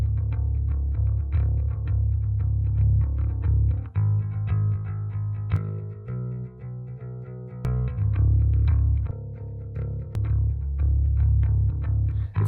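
A bass guitar riff plays through a miked bass cabinet, with a loud, punchy low end and repeated plucked notes in a steady groove that drops out briefly around the middle before returning.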